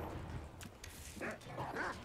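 An enemy dog in the Resident Evil 4 video game snarls and barks in two or three quick bursts over steady game background noise.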